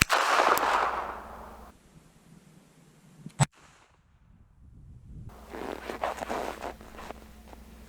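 A single sharp report from a flintlock rifle fired at a target, the one loud crack standing alone amid quiet outdoor background with faint rustling before and after.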